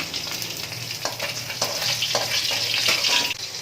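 Pieces of bata fish fry in hot oil in a wok, a steady close crackling sizzle with small pops and spatters running throughout, no voices.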